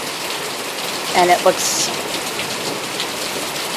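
Heavy rain pours down in a summer thunderstorm in Houston, making a dense, steady hiss of drops on surfaces, with a person briefly speaking over it.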